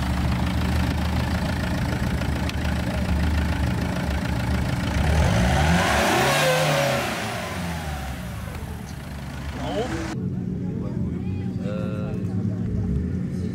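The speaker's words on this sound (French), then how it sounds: "démarre. Accélère." Car engine idling then revving up loudly with rising and falling pitch before settling back, close by, with people talking over it.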